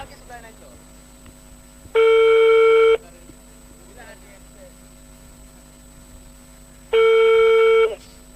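A telephone call goes unanswered: two separate one-second ringback tones sound loud and clear about five seconds apart, with quiet background in between.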